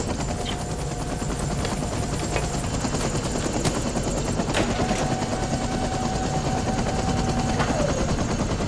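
A helicopter flies over a snowy mountain avalanche zone, its rapid rotor chop close and steady throughout, with sharp cracking bursts mixed in.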